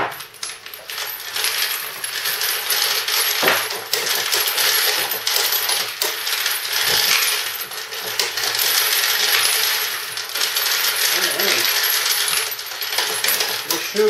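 Brass cartridge cases rattle and clatter continuously as they are fed into a Dillon XL650 reloading press, a dense metallic jingling that stays loud and close with brief pauses.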